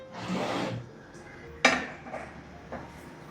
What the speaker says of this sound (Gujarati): અને હવે આપણે ઇડલી મેકરની અંદર ભરી દઈએ છીએ આપણી સાઇઝ અને વ્યવસ્થા પ્રમાણે.